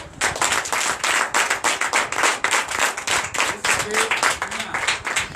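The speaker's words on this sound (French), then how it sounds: "Donc je vous demande d'applaudir très fort." Sustained applause from a church congregation at a Sunday service in Benin, dense and loud, with clapping that pulses in waves throughout.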